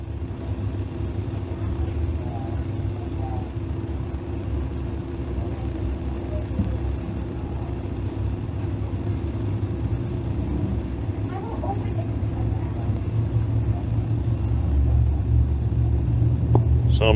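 Crate sprint race car engines rumble at a dirt track, a steady low drone that grows louder toward the end, one car running with a bent valve, under a commentator's voice.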